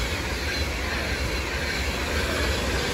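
Class 390 electric train 390050 passing through Stafford station, a loud continuous roar of wheels on rail that stays even across the whole pass.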